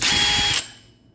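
A power drill with a 2 3/8-inch hole saw grinds loudly through a metal exterior door for about half a second, then cuts off, leaving a brief fading ring and quiet.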